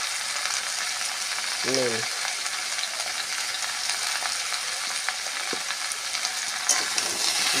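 Turmeric and cumin powder sizzling in a pan for a Bengali poi shak ghonto of Malabar spinach with potato, brinjal and pumpkin, a steady broadband hiss throughout, with one short spoken word near the start.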